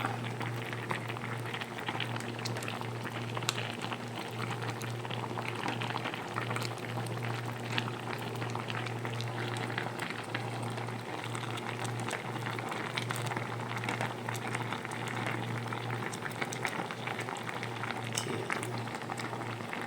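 Talakitok (trevally) jaws and tails simmer in a pot of coconut milk, giving a steady, even bubbling that runs unbroken throughout with no talking.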